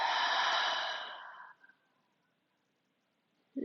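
A slow, breathy exhale during a chair yoga breathing exercise, starting full and steady and then tapering off into near silence, with a faint breath sound at the very end.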